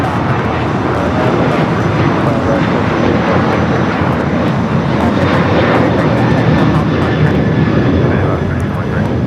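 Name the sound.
Alaska Airlines Boeing 737-800 taking off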